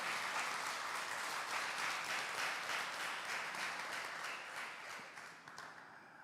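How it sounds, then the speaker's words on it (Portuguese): Members of a church congregation applaud after a scripture reading, a soft, steady patter of many hands heard at a distance that slowly tapers off near the end. "Vamos aplaudir a poderosa palavra de Deus. Aplaude com força."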